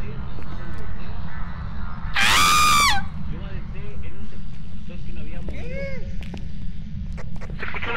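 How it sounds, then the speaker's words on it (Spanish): A player screams sharply during a Phasmophobia ghost-hunting game session, one loud shrill yell amid game ambience, with other players talking over the voice chat before and after. "¿Sintieron el grito?"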